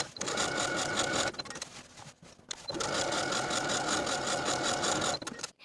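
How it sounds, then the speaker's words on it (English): Pant leg hems are edge stitched on a sewing machine in two long, steady runs of rapid mechanical whirring, broken by a brief stop partway and ending in a short stutter. "I'm choosing to edge stitch close to that upper fold all the way around"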